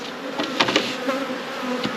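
Honey bees buzz steadily around an opened hive during an inspection, a continuous close insect drone with a few louder passes as individual bees fly near.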